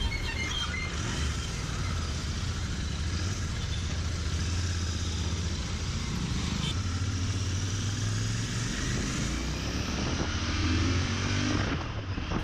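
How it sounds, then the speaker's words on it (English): A Royal Enfield Interceptor 650 twin-cylinder motorcycle runs close by with a steady, loud engine drone throughout, its pitch rising slightly near the end as if revved. No one speaks. "This bike sounds really good. It sounds like a V-twin sort of."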